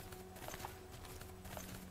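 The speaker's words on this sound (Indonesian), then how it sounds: "Dah kita naik kuda deh." Horse hooves clip-clop in the video game Cowboy Life Simulator as a ridden horse walks, a quiet steady beat of footfalls over a low game background, with no talk.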